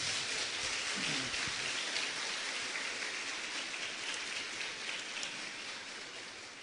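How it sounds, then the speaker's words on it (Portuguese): A church congregation applauds the Lord Jesus in a dense, steady wash of clapping that sounds almost like heavy rain, sustained for several seconds and slowly fading toward the end, with no speech over it. "quantos podem aplaudir ao Senhor Jesus?"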